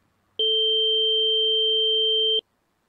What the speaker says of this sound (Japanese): さっき見た2つの信号をオーダーシティというソフトを使って足した音がこれだよ